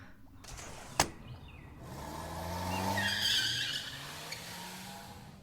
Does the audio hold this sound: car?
yes